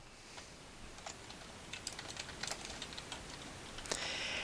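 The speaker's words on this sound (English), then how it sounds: "And I can start typing." Soft, scattered key clicks from a computer keyboard, irregular and fairly faint against a low background hiss.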